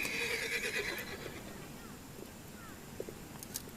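A horse whinnies loudly at the start, followed by quieter ambience with faint clip-clop and a few small knocks.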